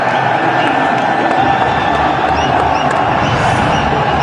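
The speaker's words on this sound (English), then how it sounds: "Something for them to cheer about here." Cricket crowd at a PSL match between Karachi Kings and Lahore Qalandars, a steady dense roar of cheering from a large stadium audience, continuous and moderately loud with a commentator's voice over it.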